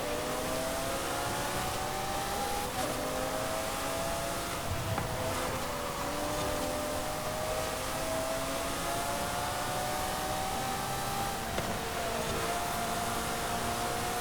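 A Ferrari's engine drones steadily through a Contemporary Italian seasonal championship race in the video game Forza Horizon 5, its pitch rising and falling gently as it revs and shifts. The sound is continuous and fairly loud, with no talking.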